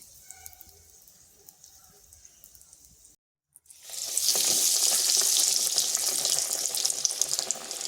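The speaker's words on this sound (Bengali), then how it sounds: "এইভাবে আমি সবগুলো ভেজে নিচ্ছি।" Bread-and-egg snack pieces frying in hot oil: after a quiet stretch and a short gap, a loud, steady, dense sizzle erupts and holds close by.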